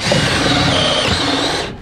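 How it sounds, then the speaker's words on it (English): A power drill runs loud and steady for nearly two seconds, its high whine holding pitch before cutting off at the end. "I don't think my drill is powerful enough for this kind of work"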